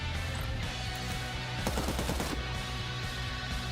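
Gunfire bursts in the video game Cyber Knights: Flashpoint, a dense rattle of shots peaking near the middle and set against a steady loud game soundtrack, with no talking.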